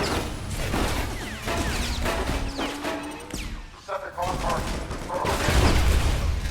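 Vehicle-mounted machine gun in Transformers: Revenge of the Fallen firing steady rattling bursts for several seconds, with a brief lull midway before a heavier surge, while people talk over the shooting.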